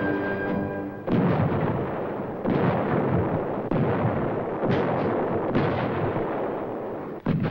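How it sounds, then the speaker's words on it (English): Muzzle-loading cannon fire from a 1781 siege rings out as a string of loud, close booms, each followed by a rumbling decay and then the next blast, about half a dozen in quick succession. "For the opening American gun, it is said, General Washington himself touched match to powder."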